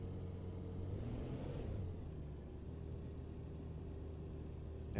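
A race car in the Rennsport racing game drives at steady speed, its engine a continuous mid-pitched drone with a brief rise in revs early on, loud and close throughout.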